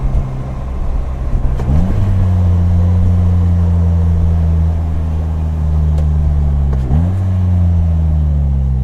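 A 2018 Polaris Slingshot SL with a manual gearbox drones loudly and steadily while driving, its engine note dipping sharply twice as revs drop between gear changes, then settling back into a constant rumble.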